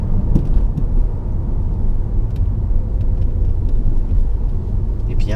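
Steady low road and engine rumble inside a 2011 Peugeot RCZ 1.6 THP cruising gently; the cabin noise is constant and even, with light clicks and rattles on top and no talking.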